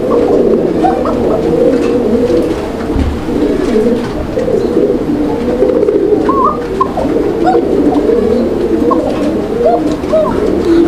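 Continuous low pigeon cooing fills the clip, a male pigeon and other birds throbbing and burbling together at close range, steady and fairly loud throughout.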